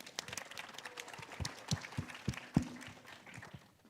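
Scattered handclaps from an audience at a Build with AI tech roadshow event in Jakarta, faint and sparse, with a few sharper claps standing out over a quiet room.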